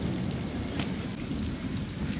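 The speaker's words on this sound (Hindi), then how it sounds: "बहुत बारिश हो रही है तेज।" Steady heavy rain pours down in a dense, continuous hiss, with occasional louder splashes close by.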